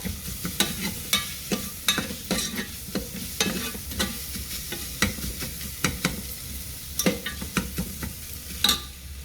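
Half a spoon of ginger garlic paste fries and sizzles in a pan for chana masala, with a soft steady hiss broken by repeated sharp scraping strokes of a spoon stirring, close and moderately quiet.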